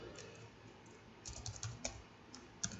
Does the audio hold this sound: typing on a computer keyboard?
yes